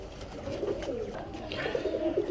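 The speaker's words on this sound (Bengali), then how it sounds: "এগুলো কিন্তু পুরান জাতের সাপচিলা কবুতর" Giribaz pigeons of the old Sapchila breed cooing in a loft, soft low throaty coos repeating in a rolling rhythm, close by over a faint background hiss.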